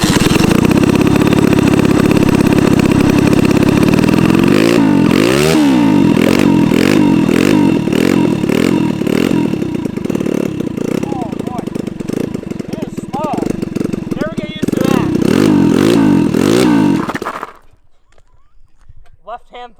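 A Walmart Formula One toy car converted into a go-kart runs on a paved racetrack, its small engine buzzing loudly and steadily with repeated rises and dips in pitch before cutting off abruptly near the end.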